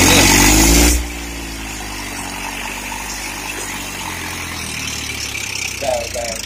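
Powertrac tractor engine labouring up a dam embankment, a loud rumbling drone that settles into a steady hum, with people shouting over it.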